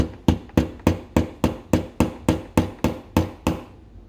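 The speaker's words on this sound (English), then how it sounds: "And I hammer it down." Twelve evenly spaced metal hammer blows ring out in a steady rhythm, each sharp strike followed by a brief ringing decay, hammering a gear onto a broken motor axle.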